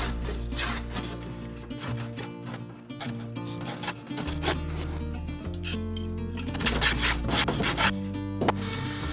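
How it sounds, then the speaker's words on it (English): A hand planer shaves a wooden paddle blade in steady, close rasping strokes that run almost continuously, with low background hum and no talk. "going in for finishing touches with a hand planer"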